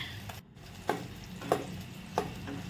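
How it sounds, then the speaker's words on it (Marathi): A ladle scrapes around a pan of melting butter on a low gas flame while ghee is made, giving three soft, evenly spaced stirring strokes over a quiet background. "पळीने असं सर्व बाजूने आपण असं फिरवून घेऊ त्याला"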